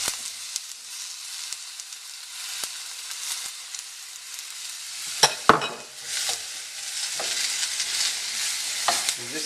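Onion, garlic and capsicum fry in a pan with a steady hiss, broken by several sharp stirring scrapes and clacks, close and moderately loud, with no voices.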